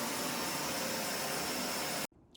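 A Narwal Freo X robot vacuum mop cleans a home floor with a steady, even whirring hiss close by. It cuts off abruptly near the end, leaving quiet room tone.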